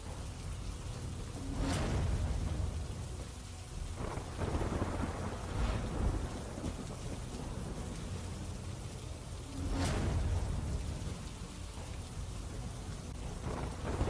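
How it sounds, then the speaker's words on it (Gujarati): Torrential monsoon rain in Surat, Gujarat, a dense continuous downpour with two loud rolling thunder cracks about eight seconds apart, plus fainter rumbles and wind buffeting the microphone. "સુરતમાં મુશળધાર વરસાદ વરસી રહ્યો છે."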